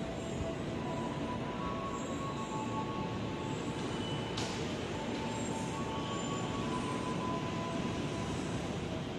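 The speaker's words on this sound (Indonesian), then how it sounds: "lokomotif Pulang Dipo." Locomotive returning to the depot along a railway track at an Indonesian station, a steady rumbling roar with faint metallic squeals, continuous and moderately distant, no talking.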